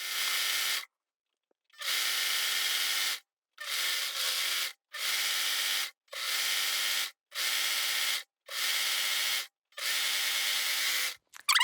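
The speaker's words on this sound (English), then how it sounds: "I'm just serging the edges together." Serger sewing machine stitching quilt and thick denim seams in eight bursts of steady whirring, each a second or so long with short pauses between, close and loud with no talk.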